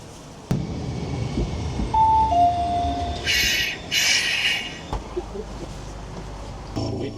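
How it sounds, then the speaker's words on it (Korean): A Kumamoto streetcar tram runs along its tracks, with a steady low rumble, brief high wheel squeals and scraping hiss midway, and a thump as it settles, heard up close without talk. "구마모토 노면 전철은 또 어떨지 궁금하네."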